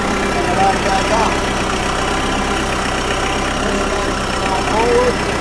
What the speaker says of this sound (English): When the engine's running, we can pull the loader control back and the loader goes up.